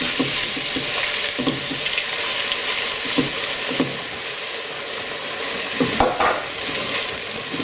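Finely blitzed onions fry in a pan with a constant loud sizzle, while a spoon stirs and scrapes against the pan in irregular knocks throughout.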